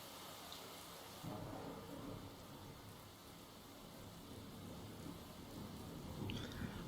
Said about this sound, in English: what's your guys' opinion on rain sounds with like thunder SFX?